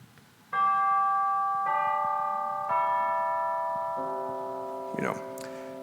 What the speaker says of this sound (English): real quick, we also have chimes